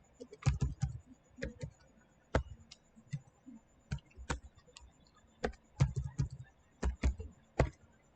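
Clacking keystrokes on a computer keyboard as a database password is entered, coming in short uneven bursts of close, crisp clicks with brief pauses between them.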